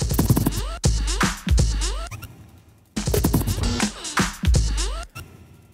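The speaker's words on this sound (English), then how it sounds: "what you hear right now is SampleDrum channel 2 playing some chopped up breaks and being triggered by my clock divider" Chopped-up drum breaks fire from a sampler channel triggered by a clock divider, giving stuttering, scratchy fragments of kicks, snares and cymbals in uneven repeating bursts, loud and busy.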